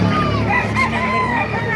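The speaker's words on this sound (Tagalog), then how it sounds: "Napakaraming manok dito, mga Texas, Dumalaga, tsaka Inel, mga master" Roosters and chickens, including Texas and Dumalaga fowl, crowd a busy animal market in Baliuag. Overlapping crowing and clucking fills a loud, dense din, with people talking underneath.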